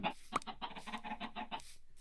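Chickens kept in a coop room in Minecraft, giving a rapid string of short clucking calls, quiet and close, with nobody talking.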